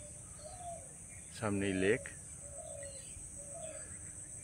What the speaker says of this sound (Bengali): সকালটা খুব ভালো, পাখির ডাকে ঘুম ভাঙলো,